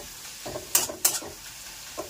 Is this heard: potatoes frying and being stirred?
yes